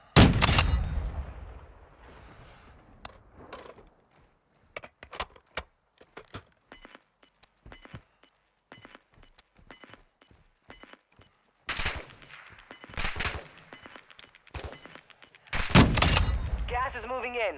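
Gunfire in the battle royale game Warzone 2.0 during a quads match, with scattered bursts and single sharp shots spread across the stretch, some louder and close, mixed with other game sounds and occasional voices.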